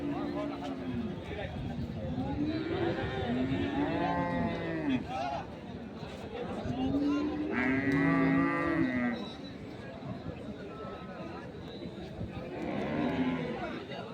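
Dairy cows, including Sahiwal, Sindhi and local breeds, mooing at the Ambari cattle market, with several long, close moos rising over the steady chatter of a crowd.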